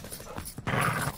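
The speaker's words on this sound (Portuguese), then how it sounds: "Cães de ataque a caminho." Attack dogs in a video game give brief, rough barks and growls. One loud burst comes after quieter panting-like huffs, all within a second or so.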